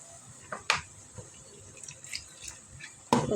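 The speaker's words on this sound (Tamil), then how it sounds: "கொஞ்சம் அலசி ஊற்றிக்கலாம்." Water is swished in a mixer grinder jar that held ground coconut and cumin and poured into a pot of cooked greens for koottu, with scattered close splashes and sharp clinks separated by quiet gaps.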